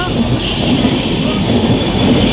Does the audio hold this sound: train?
yes